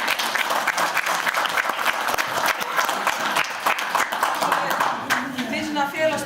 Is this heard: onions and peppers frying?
no